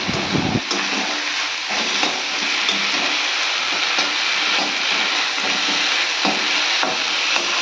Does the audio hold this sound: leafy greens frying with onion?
yes